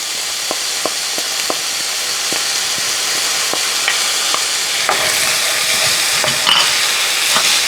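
Sriracha mixture being stirred into mapo tofu frying in a pan, with a steady sizzle under repeated scraping clicks of a utensil against the pan, loud and close, no voices.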